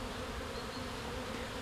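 Honeybees stir at a small hive on a cool, sunny day of about 10°C, giving a steady, close, even buzz with no pauses and no voices.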